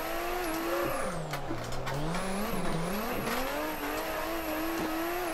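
A Nissan Skyline R32 drifting in the racing game Assetto Corsa, its engine revving steadily with tyre squeal sweeping up and down throughout, loud and continuous with no talk.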